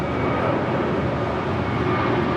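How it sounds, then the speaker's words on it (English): A Hawaiian Airlines A321neo takes off, a steady, loud, broadband jet engine roar that holds without a break throughout. "That is Hawaiian Airlines Flight 63 taking off to Lihui on an A321neo"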